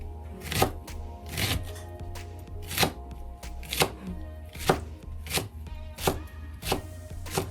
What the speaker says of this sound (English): We cut it like this. Cut it very thin.